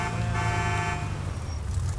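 A car horn honks in GTA 5 while driving off-road through snow, a steady held toot over continuous engine and road rumble, fairly loud and close, lasting about a second before fading into the vehicle noise.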